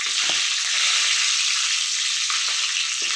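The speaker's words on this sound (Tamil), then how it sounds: "இப்போ நம்ம கட் பண்ணி வச்சுருக்கிற பூண்டை ஆட் பண்ணிக்கலாம்." Chopped garlic sizzles in hot oil after mustard seeds have popped, a steady bright crackling hiss with a few soft stirring knocks.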